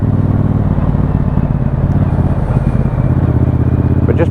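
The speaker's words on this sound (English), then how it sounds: "We're just pushing it through the roundabout with the visor up so you can get some engine noise." A Triumph Bobber 1200cc motorcycle pulls through a roundabout, its engine a loud, continuous low rumble heard close up from the rider's position.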